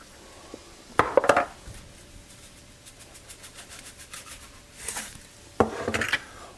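Eggs with black pepper and salt are beaten in a bowl for a crustless quiche, giving rapid rhythmic clinking and scraping of a utensil against the bowl, with louder clattering bursts at the start and near the end.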